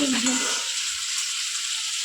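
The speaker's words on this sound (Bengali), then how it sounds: "মা এই যে দেখো চিংড়ি মাছ ভাজছে" Prawns fry in a pan for a bottle-gourd and prawn dish, giving a close, steady hiss and crackle that lasts the whole moment.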